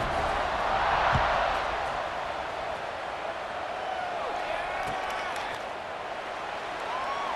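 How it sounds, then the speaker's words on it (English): A football stadium crowd roars steadily at kickoff, a dense, sustained wash of cheering and noise that swells early and holds throughout, with a commentator's voice faintly present. "They're set to kick it off, and this crowd now ready to get behind them."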